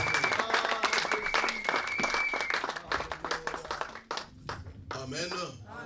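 A church congregation applauds and cheers during a worship service, a dense continuous wash of clapping mixed with voices and shouts that thins out and becomes more scattered toward the end.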